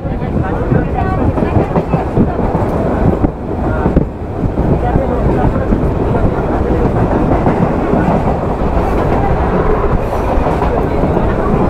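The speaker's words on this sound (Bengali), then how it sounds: "দশটা 32 কাঁথি থেকে ছেড়ে ট্রেন বেরিয়ে যাচ্ছে।" A local train pulls out of Kanthi (Contai) station on the Howrah to Digha line, a loud continuous rumble of wheels and carriages mixed with heavy wind buffeting close to the microphone.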